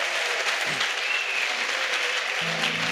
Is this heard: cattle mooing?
no